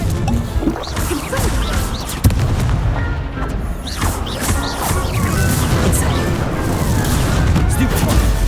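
Blasting spell explosions and impacts from the Hogwarts Legacy video game burst repeatedly amid dense combat noise, one sharp crash standing out, with a voice shouting spell names over the din.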